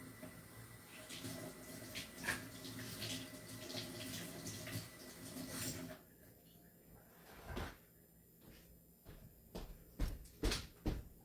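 Tap water runs into a sink while a stained glass piece is washed, a soft continuous splashing for several seconds that gives way to quieter clatter and knocks of handling.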